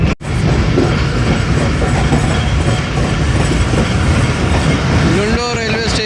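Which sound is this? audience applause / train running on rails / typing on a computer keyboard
train running on rails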